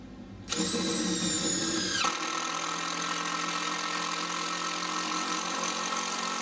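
A Makita DTD145 impact driver, 100th Anniversary Edition, drives a screw: a sudden loud whirring rattle of hammering impacts lasting about two seconds, then a steady high motor whine carrying on, close and without voices.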